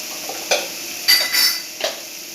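Sugar and cardamom filling stirred in a pan with a spoon, making a few soft scraping clinks at irregular intervals over a quiet steady background hiss.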